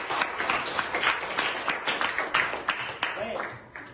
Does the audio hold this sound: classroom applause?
yes